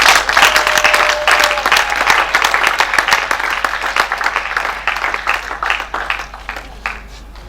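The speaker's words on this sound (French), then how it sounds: "Est-ce que nous pouvons acclamer?" Guests at a wedding ceremony applaud, a steady dense burst of clapping that starts loud and slowly thins out, with no talking over it.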